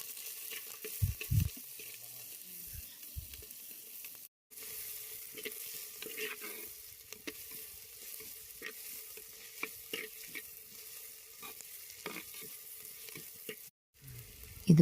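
Four medium-sized onions fry in a pan until golden for a village-style country chicken curry, with a faint, steady sizzle close by and occasional soft scrapes and clinks of stirring.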